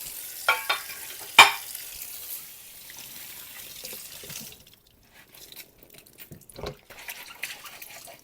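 Dishes being washed in a sink with running water, a few sharp clinks early on followed by soft splashing and rinsing, fairly quiet and close, with no talking.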